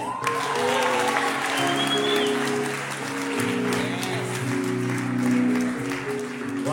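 An audience claps and cheers continuously, a dense wash of hands with shouts rising over it, while music with sustained tones carries on underneath throughout.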